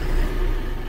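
Steady low rumble of a used Hyundai All New Mighty 3.5-ton wide wing-body truck engine idling close by, even and continuous, with no voices over it.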